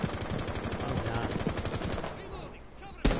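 Rapid automatic gunfire rattles in a fast multiplayer shooter match, a dense burst of shots for about two seconds, then a pause and a single sharp shot, with faint voice chat underneath.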